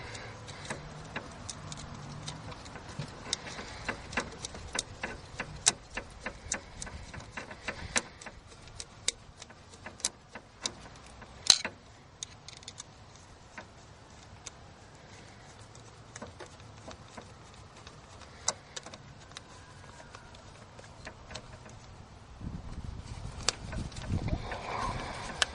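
A hose clamp on the fuel filter of a Nissan Maxima is tightened: a quiet stream of sharp, irregular ticks and clicks, close up, with a brief burst of louder rustling near the end.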